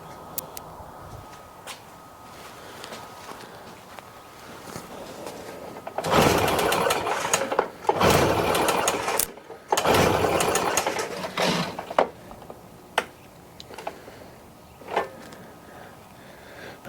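Stihl BR800X backpack leaf blower engine revving hard in several loud surges between quieter idling stretches, with intermittent ticking and handling clicks nearby.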